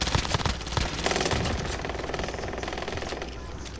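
Rapid automatic gunfire pounding in a steady loud stream as players fight zombies in a video game, with dense repeated shots and almost no talk.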